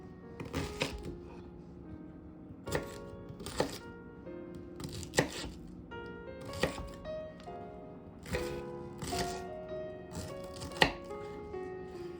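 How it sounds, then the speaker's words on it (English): A knife chopping a fennel bulb on a cutting board in quick bursts of crisp thuds, separated by short pauses, close and clear in a quiet room. "give your fennel bulb a good chop"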